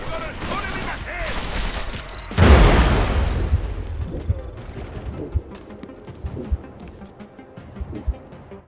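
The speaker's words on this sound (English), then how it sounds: "I'm gonna shoot him in the head!" Gunfire in Deus Ex: Mankind Divided, a loud burst of shots and a boom, followed by scattered fainter shots and impacts, with someone talking over the action.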